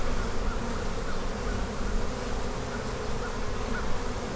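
Honeybees buzzing steadily around an open hive during a brood inspection, a dense continuous hum that stays close and fairly quiet with no talk over it.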